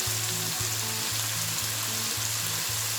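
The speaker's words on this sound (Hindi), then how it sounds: "आपने इसको अच्छी तरह से फ्राई करना है तकरीबन 5 to 6 मिनट।" Garlic frying in a pan with pepper and salt for spicy bites, a steady soft sizzle running throughout under a repeating low mechanical hum, quiet and continuous with no voices.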